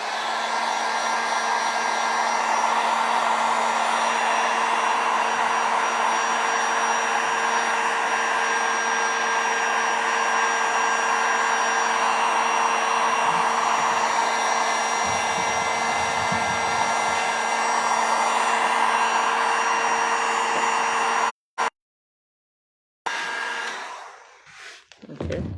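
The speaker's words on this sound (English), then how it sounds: "So I just applied a little heat to it so it can stick to the board." A heat gun or hair dryer running on low blows steadily and loudly while warming a wooden door hanger, a constant whirring rush that cuts off abruptly near the end and then briefly restarts.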